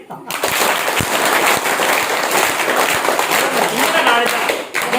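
A crowd at a tenth-anniversary motivational class claps loudly and continuously, a dense close burst of applause that fades out at the end.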